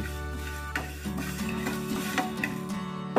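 Cumin and fenugreek being stirred as they dry-roast in a pan for bhajani flour, a steady soft scraping and light rustle with faint clicks of the spoon against the metal, close and continuous without talk.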